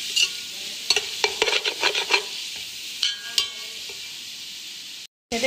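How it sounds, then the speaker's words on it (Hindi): Cabbage and mixed vegetables stir-fry in a pan, with a steady hiss of frying under a run of sharp spatula scrapes and taps clustered early, then sparser strokes, and a brief dropout near the end. "इसी के साथ मैं इसकी अपनी बंद गोभी डाल दूँगी इसके अंदर, और मेरी जितनी सब्जियां हैं वो सारी इसके अंदर ऐड कर दूँगी"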